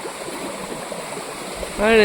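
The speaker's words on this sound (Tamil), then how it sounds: "இங்கே பாருங்க ஃபுல்லாக தண்ணி போயிட்டு இருக்குது." Water flows steadily through a channel in a village, a continuous rushing wash heard close, with a voice briefly rising at the end.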